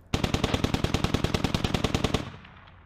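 Sustained automatic gunfire in the video game Squad, a rapid evenly spaced burst of about twenty loud close shots that cuts off and leaves a short fading tail.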